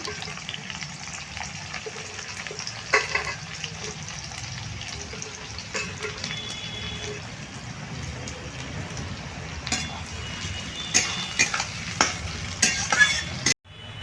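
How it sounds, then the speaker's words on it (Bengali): Chopped onions frying in a pan for a sesame chicken kosha, a continuous close sizzle with stirring scrapes and occasional louder clatters toward the end, no voices. "পেঁয়াজগুলো ভালো করে ভেজে নেবো আমি"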